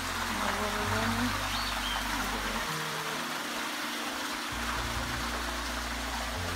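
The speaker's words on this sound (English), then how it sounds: "more water coming, more water running." Steady running water at the Caldas de Monchique hot springs in Portugal, a continuous close rush with a low rumble and a brief dip midway, alone with no voices.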